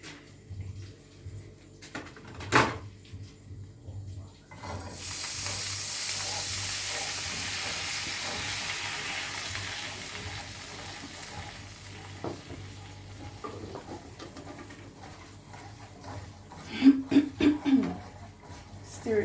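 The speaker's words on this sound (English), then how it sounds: "So I'll go ahead, add a little water." Water poured into a hot saucepan of leftover beef juices erupts into a loud, steady sizzle that gradually settles, followed by clinking and scraping of stirring near the end.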